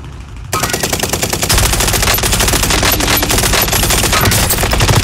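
Rapid automatic gunfire in a video game, loud and sustained after a brief quieter opening, with dense overlapping bursts and no talk.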